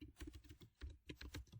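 Keys clatter on a computer keyboard in quick, irregular bursts of soft clicks, close and quiet, with brief pauses between runs and no voices.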